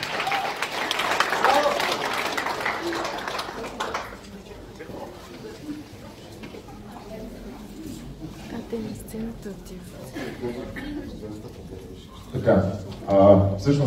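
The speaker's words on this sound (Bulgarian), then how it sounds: "Аплодисменти за всички вас!" A studio audience breaks into a few seconds of lively clapping for the participants on stage, then it dies away and people talk, with another short burst of clapping and voices near the end.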